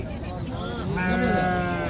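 A goat bleats amid the bustle of a large livestock market in Dera Ghazi Khan before Eid, its drawn-out cry rising over steady crowd chatter and nearby voices.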